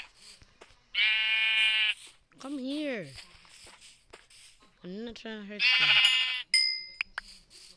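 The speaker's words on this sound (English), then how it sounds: "We need to kill some sheep." Sheep bleat in a video game, several wavering cries spaced through the clip, loud and close, with a person talking between them.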